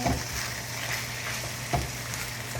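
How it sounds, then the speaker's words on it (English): Bolognese sauce with parsley is stirred in a pan, a close soft sizzle with wet scraping strokes and a couple of dull knocks from the spoon, and no speech. "What we're gonna do is we're going to stir again, like so"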